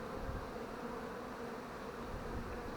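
Honey bees hum around strong hive colonies in a steady, dense buzz that holds at an even level throughout, faint and without any voices.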